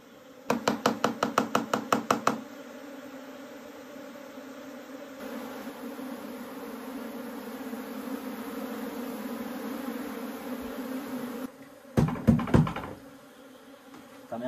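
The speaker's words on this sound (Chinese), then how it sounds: "这窝蜜蜂可以哈" A honeybee colony hums steadily at a bee trap barrel on a hillside, a close continuous drone broken by rapid rhythmic knocking at the start and again near the end.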